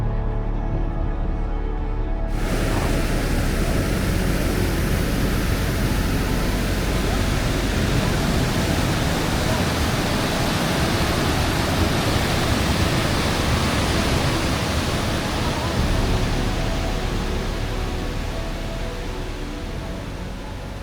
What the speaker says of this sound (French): Au fond, on entend la rivière, puis tout au bout, les Lower Falls.